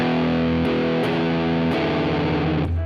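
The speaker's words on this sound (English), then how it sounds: "listen how the distortion develops" Heavily distorted electric guitar playing slow blues rings out in sustained, gritty chords with a few pick attacks, loud and close, fading at the end.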